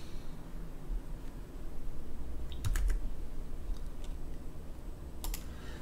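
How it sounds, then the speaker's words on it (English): Typing on a computer keyboard, a few quick clusters of light clicks over a steady hiss of background noise, faint and close. "I'll just type it in manually."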